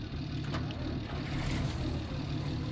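A small, somewhat loud tractor engine runs at a steady idle close by, a constant low rumble with no talking.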